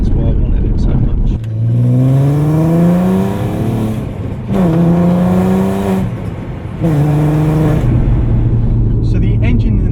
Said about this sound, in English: So the engine and the exhaust sound absolutely brilliant.